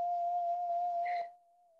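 A steady pure sine tone from the Chrome Music Lab oscillator holds for over a second, then drops in level and fades to a faint continuous hum.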